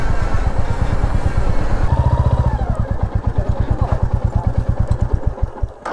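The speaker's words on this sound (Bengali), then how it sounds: "বাইক নিয়ে এখন যাবো, আরেকটা জায়গা ভিউ পয়েন্ট আছে সামনে" A motorcycle at a viewpoint near Kumai in the Dooars revs and pulls away, its close, loud engine thumping in a fast, steady rhythm that grows choppier as it moves off.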